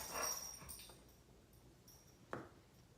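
Dogs whimpering and yipping indoors, a short high whine at the start and a single abrupt bark-like yelp later, fairly faint against a quiet room.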